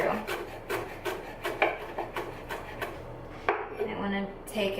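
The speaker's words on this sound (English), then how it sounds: "I'm going to roll them up like this. Take my knife and just run it through." A kitchen knife slices through rolled-up basil leaves on a wooden cutting board, giving a quick series of crisp, rhythmic chopping strokes close by, with no talking.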